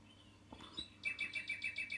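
Cheap cuckoo clock's mechanical bird tweeting on the hour, a short burst of evenly spaced chirps repeating rapidly and clearly after a couple of faint clicks, with no talk over it.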